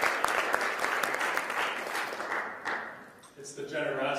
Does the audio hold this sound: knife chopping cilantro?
no